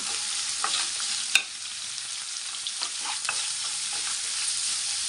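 Onions frying in a pan as the base for a chicken gravy, with a steady close sizzle broken by occasional spatula scrapes and one sharp clack near the start, fairly quiet and without talk.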